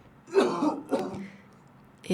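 A person nearby coughs and clears their throat in two rough bursts, followed by a short pause and the start of another sound.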